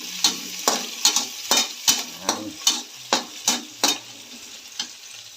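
Onions browning in a pan give off a continuous sizzle, broken by about ten sharp, evenly spaced scrapes of a utensil stirring them, close and clear with no voices.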